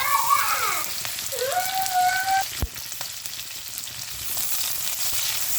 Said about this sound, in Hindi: सबसे पहले शिमला मिर्च डाल देते हैं और फिर हमने इसको हल्का सा सौते करना है